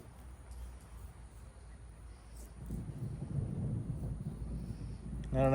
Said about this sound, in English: I don't know if you could hear that lightning and thunder